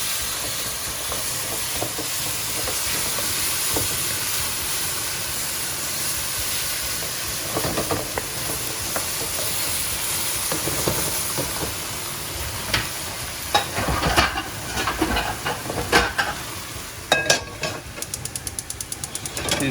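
Beef sizzles in a hot wok as drops of chili oil go in, a steady hissing fry with stirring and scraping clatter that grows busier and more percussive toward the end.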